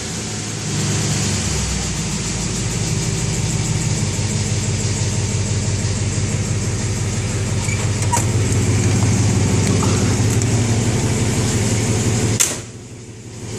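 A restored 1966 Plymouth Sport Fury convertible idles steadily for a long stretch, its low pulsing rumble even and close, then cuts off abruptly near the end.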